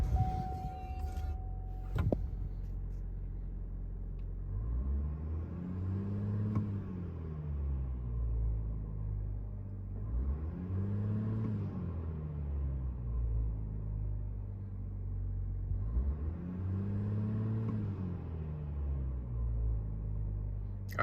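A 2021 GMC Sierra 1500 with a 3.0L Duramax diesel and an S&B cold air intake held at 2,000 RPM, a steady low rumble that swells and fades in slow, regular waves.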